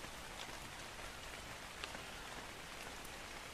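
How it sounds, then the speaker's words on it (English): Steady rain in the survival video game Ark Survival Evolved, a uniform soft hiss of falling drops with occasional faint patters, quiet and continuous with no voices. "Oh my god, it's raining!"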